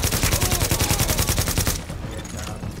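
Rapid automatic gunfire in a video game, a dense rattling burst close and loud that cuts off after nearly two seconds into a noisy background.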